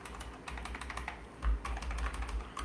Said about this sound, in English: I'm using arrow keys on my keyboard